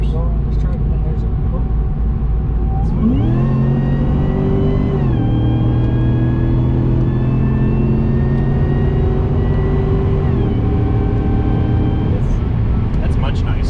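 A tuned Cadillac CTS-V on a street drive accelerates hard, its engine note climbing sharply then holding a loud, steady rising drone inside the cabin before easing off near the end.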